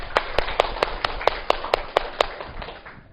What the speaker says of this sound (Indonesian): Oke, tepuk tangan dulu untuk semuanya.